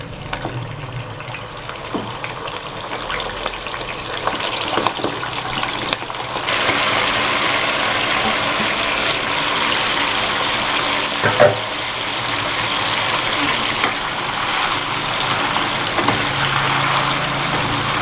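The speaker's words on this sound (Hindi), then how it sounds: "ऑयल गर्म हो गया, मैं इसमें डालता हूँ चिकन।" Chicken drops into one litre of hot oil in a karahi for charsi karahi, and a loud, steady sizzle rises suddenly partway through and continues close up, with a few clanks of utensils.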